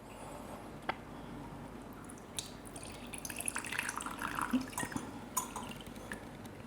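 Absinthe with a sprig of wormwood inside is poured from a bottle, giving soft intermittent trickles and drips with small glassy clinks, fairly quiet and close.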